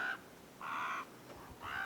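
Crows cawing outdoors, three harsh, drawn-out calls spaced evenly apart, faint and distant against a quiet background.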